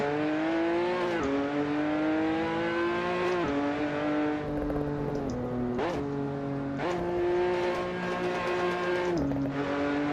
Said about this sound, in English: it's a different sound in my headset with the exhaust behind me